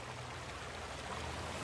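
Water rushes and burbles steadily in a renaturalized brook in the middle of Dortmund, a continuous close-up flowing wash with no pauses.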